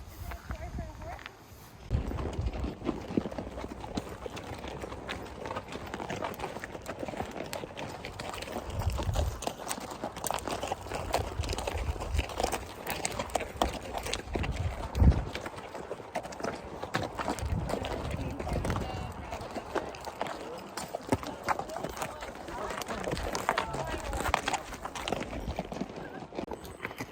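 Horse hooves clip-clop steadily at a walk through a long stretch near Grand Teton, a continuous rhythmic clatter with people talking over it.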